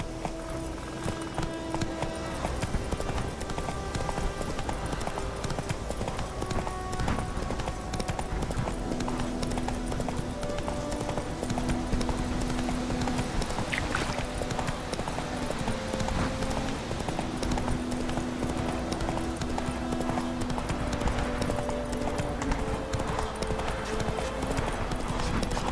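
Hooves of a horse galloping in the video game The Witcher 3: Wild Hunt, a fast, steady clip-clop running throughout over sustained game music and ambience, close and continuous.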